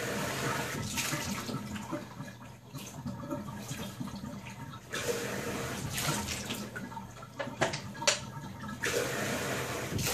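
Water gushes and splashes in bursts as buckets are poured over a corgi in a bath, a close, loud pouring sound in several surges with no talking.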